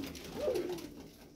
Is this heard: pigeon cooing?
yes